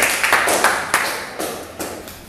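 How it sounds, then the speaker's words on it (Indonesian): A small classroom group claps for the second student group after its presentation, brief uneven clapping with several distinct bursts, close and fairly loud. "beri tepuk tangan untuk kelompok 2"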